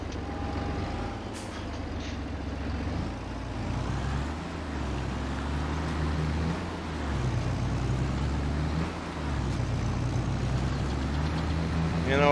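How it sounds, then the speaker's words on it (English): A small, fairly low-horsepower Zetor tractor in Farming Simulator 22 drones with a steady, low engine hum that swells and eases in gentle pulses, close up, beneath intermittent speech. "for being a small and fairly low horsepower tractor, this little Zetor does get some work done"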